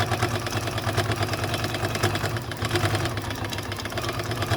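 A sewing machine stitches through many thick layers of a vintage quilt with a dense, rapid, rhythmic mechanical chugging. It sounds loud and close and runs continuously, dipping briefly midway.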